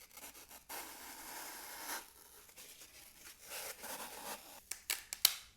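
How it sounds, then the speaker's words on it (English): An X-Acto knife cuts through foam at close range, with soft scraping and tearing strokes that end in a few sharper snips and clicks. "I'm gonna use a little X-Acto knife just to cut my foam down."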